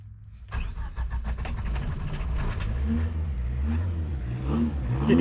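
A Suzuki Samurai engine cranks and catches, then idles and revs in an uneven rumble with mechanical rattles, close by and with no talk.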